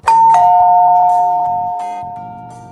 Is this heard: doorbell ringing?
yes